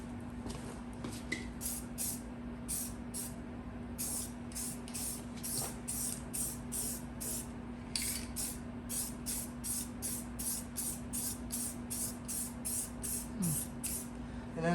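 Coating sprayed from a can onto the rusty inner fender of an 87 Dodge W250, heard as a series of soft hissing bursts in a quiet rhythm over a faint steady hum.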